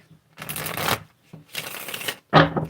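A deck of tarot cards being shuffled in three close, crisp bursts of riffling, each lasting about half a second to a second and separated by brief pauses, with no talking.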